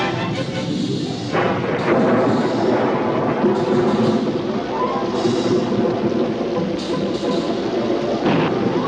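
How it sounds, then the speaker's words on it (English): A thunderstorm rumbles steadily with deep, rolling thunder and a constant wash of noise, with several heavier cracks rising out of the din, loud and continuous throughout. "a storm, isn't it?"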